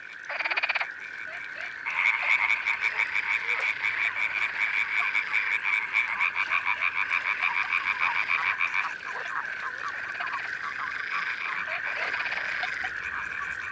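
A dense spring chorus of frogs, tree frogs and toads at the end of March in the Berry countryside of France: loud, continuous pulsing croaks from many animals, briefly dipping near the start before swelling again and carrying on without pause.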